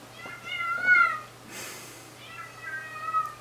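A house cat meows twice, drawn-out and fairly close, with a short pause between the calls over a faint steady electrical hum.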